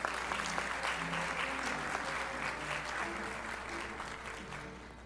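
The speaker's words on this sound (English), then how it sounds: "Give them a round of applause" An audience claps steadily at a 2023 graduation ceremony, a dense, sustained round of applause that fills the whole stretch and tapers slightly toward the end, with a faint low hum underneath.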